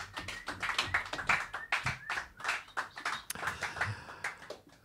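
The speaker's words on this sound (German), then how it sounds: "Also, herzlichen Applaus für Mirko und Johannes." A small audience applauding two jazz musicians at a Blue Note live show, crisp individual claps from a modest crowd, fairly quiet and steady throughout.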